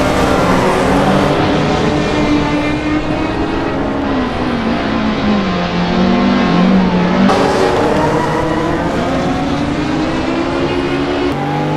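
A drifting sim racing car in a VR racing game accelerates in first gear, the engine note climbing and dipping as power is applied, loud, steady and continuous with no voices.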